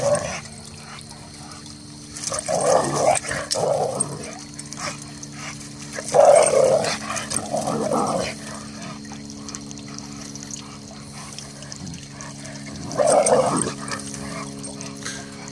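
Two rottweilers at play, with a few bursts of barking and rough growling spaced several seconds apart, fairly close, over a constant low hum and a faint trickling-water background.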